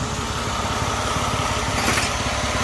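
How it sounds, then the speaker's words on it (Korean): A Mercedes-Benz E320 engine runs just after a burst catalytic converter was welded and reassembled, giving a loud, close, steady idle rumble with a constant exhaust drone and no talking. "하고 시동을 걸어 소음을 확인합니다"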